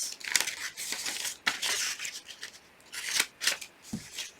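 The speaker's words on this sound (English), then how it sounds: "And you cut on the lines" Scissors cutting along the lines of a paper pop-up birthday card, close crisp snips and crinkles in short irregular bursts with quiet gaps between.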